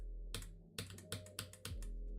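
Computer keyboard keys clicked during a game in a few quick, uneven bursts of sharp clicks, close and fairly loud over a steady low hum.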